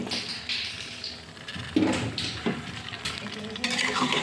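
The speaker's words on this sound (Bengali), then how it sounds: "এখন এটার মধ্যে আমি চিকেনগুলি ঢেলে দেব।" Chicken pieces are poured into a pan of cooked spices for a curry and begin frying, giving a close, steady sizzle with a few splattering bursts and utensil scrapes and no talk.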